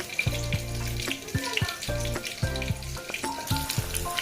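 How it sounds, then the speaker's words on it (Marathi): Garlic frying in hot oil in a pan, a loud and steady close sizzle that runs through the whole stretch with no talking. "आणि आता हे लसूण थोडंसं फ्राय झालं ना"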